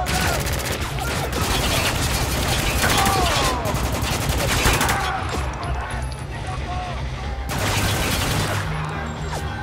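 Heavy turret machine-gun fire in the shooter game Spec Ops: The Line, loud sustained bursts of rapid automatic shots with brief lulls, a dense battle din throughout.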